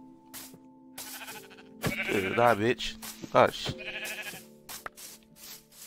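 Sheep bleat in Minecraft survival mode, with a few short wavering bleats rising mid-clip while a player talks over them.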